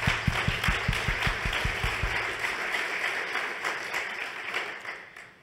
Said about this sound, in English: like a big applause to the community